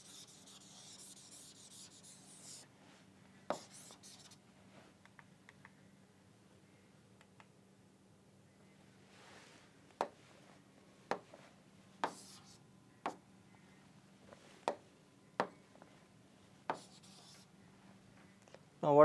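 A board being erased during a physics lesson, with a soft rubbing stroke followed by a run of sharp, evenly spaced taps and scrapes at close range over a quiet room, with no talk over them.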